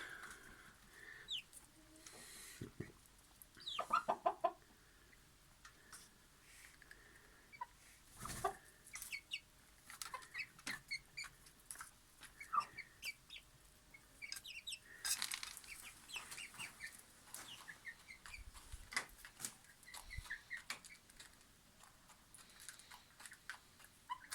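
Chickens cluck and peck at wheat in scattered, quiet bursts, with soft rustling and tapping around them.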